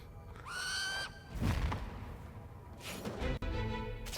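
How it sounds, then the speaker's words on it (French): Birds summoned by an enemy in the video game Crown Gambit: a sharp synthetic shriek followed by fluttering, thumping bursts and another squawking cry, loud and close over game sounds. "il invoque des oiseaux"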